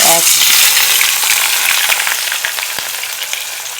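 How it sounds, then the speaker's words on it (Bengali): Chicken fries in plenty of hot oil with a loud, dense sizzle right up close that eases slightly over a few seconds, mixed with occasional light stirring clicks and no voices. "সব একসঙ্গে দিয়ে ভালো করে ভেজে নেব"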